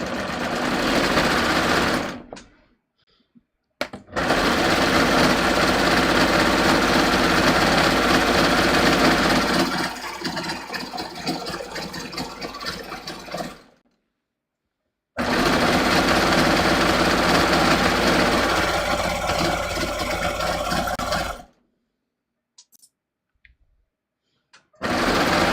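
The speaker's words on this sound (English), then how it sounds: "And I'm just going to stitch around. And I'm just using like a 4-thread" A 4-thread serger stitches around fabric in close, steady whirring bursts, with three long runs broken by short pauses of silence.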